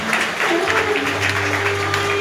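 A church congregation claps for the preacher in a steady, loud burst of applause that lasts about two seconds, with a sustained tone underneath.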